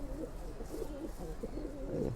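A male pigeon, a red-pied domestic bird, coos in a steady run of low, throaty warbles close by, with a faint background hum and no talking.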